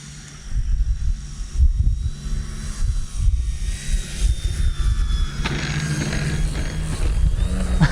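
An E-flite Turbo Timber high-wing RC plane coming in to land in wind, its electric motor whining and droning with a rising tone, close and fairly loud over outdoor wind rumble.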